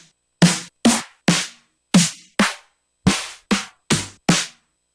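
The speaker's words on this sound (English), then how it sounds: "So like let's say I want a snare that sounds like this." Nine separate snare drum hits, found by similarity search in Sononym sample software, play one after another with short gaps between them. Each is a sharp, loud crack with a quick decay, and nobody speaks.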